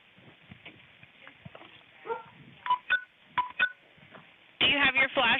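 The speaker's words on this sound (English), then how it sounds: "that sounds like messages hitting his phone" A series of short electronic tones from a phone, like incoming message alerts, chirp in quick clusters near the end, after murmured talk and bursts of a police radio in the background of a night interview.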